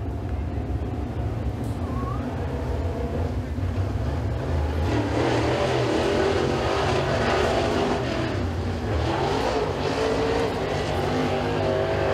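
A super late model race car runs a time trial at Eriez Speedway, its engine a steady loud roar with wind buffeting, rising and swelling as it laps past.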